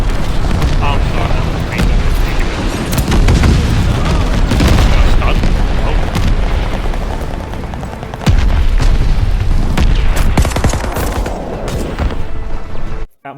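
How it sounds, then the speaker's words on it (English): Glide bomber bombs burst in loud, dense, overlapping booms in the shooter game Call of Duty: Vanguard, a near continuous barrage with a sharp fresh blast partway through. "Friendly fire bombs on the way."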